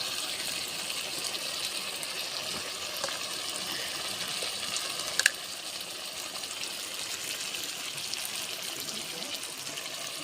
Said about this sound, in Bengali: আস্তে আস্তে করে কষাচ্ছি